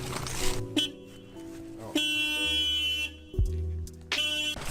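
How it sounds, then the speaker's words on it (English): A 2019 Indian Chieftain motorcycle's security alarm blares loudly in a cycling pattern, with sustained horn-like tones that shift pitch and cut off abruptly between phases. "you cannot move this bike without the key fob because the alarm will go off"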